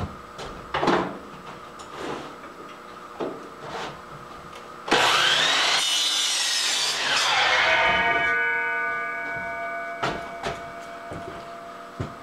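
Lathe cutting a taper on a 316 stainless steel part, a loud sustained grinding whine with a sweeping pitch that lasts several seconds, framed by scattered clunks and handling knocks before and after.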